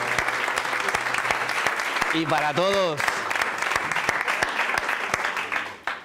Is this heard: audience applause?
yes